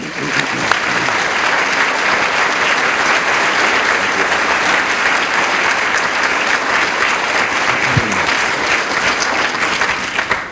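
Sustained applause from a large audience welcoming a speaker, loud and even throughout, with no break.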